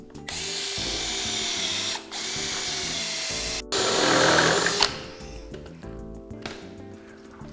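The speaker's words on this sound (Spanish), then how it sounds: "le hacemos las perforaciones para los tornillos." A power drill bores screw holes through a metal drywall stud in three whining bursts with brief pauses between them, then winds down to quieter mechanical clatter.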